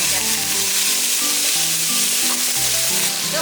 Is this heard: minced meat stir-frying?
yes